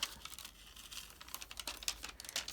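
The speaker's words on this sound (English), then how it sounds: "you need to peel back your tape and then unwrap your candle" Tape is peeled back and wrapping is pulled off a candle in a quick, quiet series of crinkling, tearing rustles and small taps at close range.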